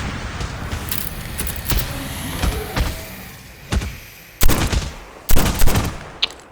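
Revolver shots ring out during a pistol-only Call of Duty Mobile zombies match, several sharp reports spaced irregularly over a busy game background.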